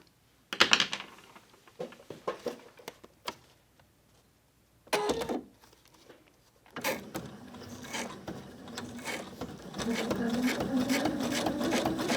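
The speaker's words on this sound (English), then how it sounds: "going to sew straight down the middle and quit right there" A sewing machine stitches straight down the middle of paper, heard as short separate bursts of mechanical whirring followed by a longer continuous run of needle chatter near the end.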